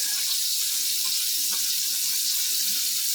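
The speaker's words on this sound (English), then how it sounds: "Now notice I didn't turn the water off." Water runs steadily from a kitchen faucet into a sink, a constant close hiss and splash with no pause, heard on its own during a handwashing demonstration.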